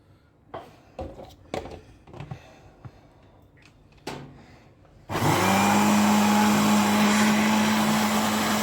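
Homemade tahini mixture grinding in a blender: a few soft clinks and knocks, then the motor kicks on abruptly and roars at a loud, steady whine until the end.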